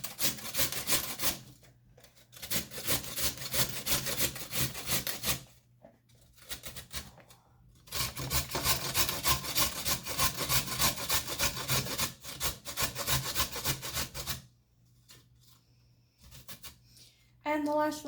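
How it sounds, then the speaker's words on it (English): Carrots grated by hand for freezing, rapid rhythmic rasping strokes close up in long runs broken by brief pauses, no one speaking. "I'm just going to go ahead and grate up this entire bowl of carrots."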